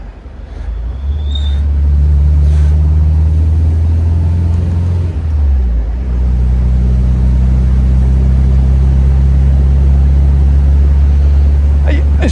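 A 1964 MG B roadster driving, with a loud low engine drone and road rumble that dips briefly as the car brakes heavily, then carries on steadily; a voice speaks at times over the cabin noise.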